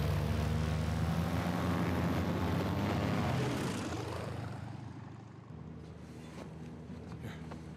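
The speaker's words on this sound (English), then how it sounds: "Goddamn plane, mate." A propeller airplane engine drones loudly in Uncharted 4, then fades as the plane moves off, leaving a quieter rumble behind.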